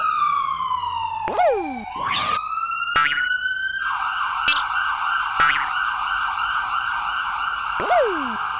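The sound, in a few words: boy imitating a police siren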